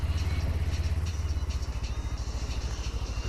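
Motorcycle engine during a rev-matched downshift, a loud close throbbing beat with a quick, even pulse that holds steady throughout.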